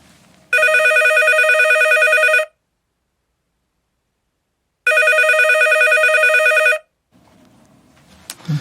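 Telephone ringing in a radio studio, two loud electronic trill rings of about two seconds each separated by silence, close and clear, with faint rustling afterward.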